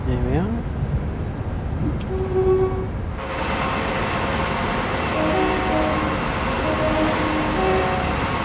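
Electric Pendolino train running in the video game Train Sim World 5 on the West Coast main line, a steady rolling rumble with a faint whine and a sudden rise in broadband rail noise partway through.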